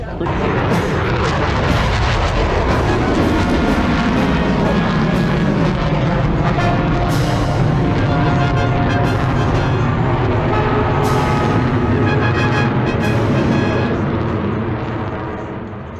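Military jet flying over at the Yuma air show, a loud, sustained roaring rumble that fills the air and slowly fades at the end, with faint voices mixed in.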